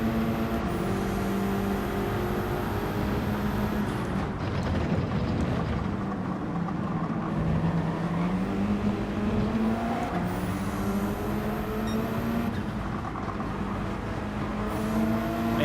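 Porsche race car engine in Gran Turismo 7, a steady loud whine rising and falling through gear changes and corners, with repeated shifts and sustained revving throughout.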